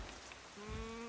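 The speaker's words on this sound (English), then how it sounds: "Oh, now it's raining." Rain falling in The Legend of Zelda: Wind Waker, a faint, steady game-world patter alone, with a sustained tone entering partway through.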